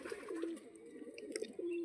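A female pigeon cooing in low, soft phrases, with two rolling coos separated by a brief lull, close and fairly quiet.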